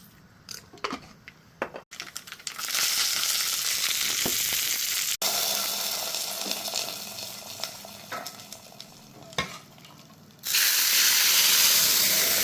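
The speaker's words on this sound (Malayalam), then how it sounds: "എന്നിട്ടൊന്ന് കടുക് പൊട്ടിച്ചൊഴിക്കാം." Mustard seeds splutter in hot oil for a rasam tempering: quiet clicks first, then a sudden loud crackling sizzle that eases, cuts out briefly and surges again near the end.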